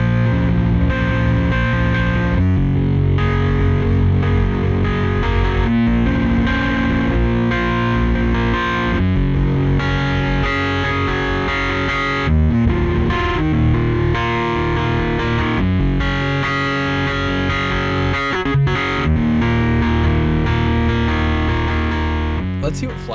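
Gritty, distorted bass keys patch from the Universal Audio Electra-88 vintage keys plug-in, played as a loud, continuous riff with sustained low notes and chords throughout, heavy with effects.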